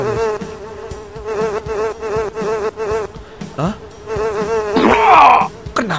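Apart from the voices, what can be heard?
housefly buzzing in video game Fly Simulator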